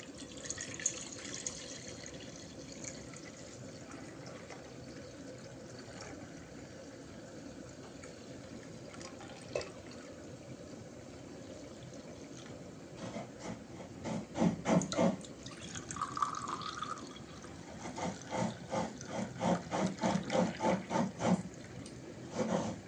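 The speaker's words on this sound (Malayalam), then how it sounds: "ഇനി വെള്ളം ഒന്ന് ഊറ്റിക്കളഞ്ഞാൽ മതി." Water drained off settled arrowroot starch during homemade flour preparation: a quiet trickle at first, then a run of splashing, dripping pours that grows louder toward the end.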